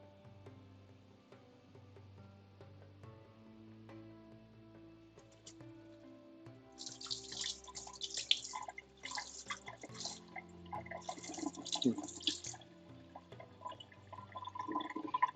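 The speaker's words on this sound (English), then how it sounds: "I'm gonna wash off my nib." A calligraphy nib being rinsed in water, soft trickling and dripping splashes that build after a quiet start, close and fairly faint over low background tones.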